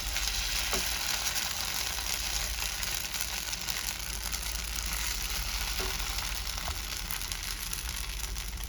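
Egg paratha batter sizzling as it is spread across a hot pan with a ladle, a steady close frying hiss with a few faint scraping touches and no talk.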